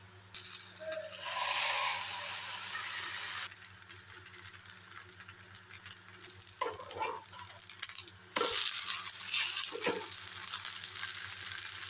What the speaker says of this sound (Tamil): இப்போ இதை தோசையை ஊற்றலாம்